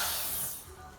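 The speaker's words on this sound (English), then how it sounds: "We can press the foot pedal and see the light and the spray." A dental NLZ micromotor handpiece gives off a short, steady hiss of water spray when its foot pedal is pressed. The sound is close, fairly soft and continuous, with no talk over it.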